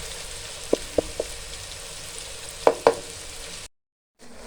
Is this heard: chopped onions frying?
yes